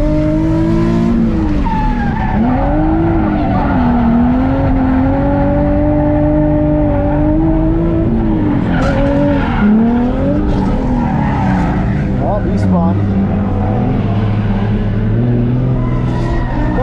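Drift car spinning out during tandem drifting at a track event: loud, continuous tire squeal and skidding over a revving engine, wavering in pitch as the car slides.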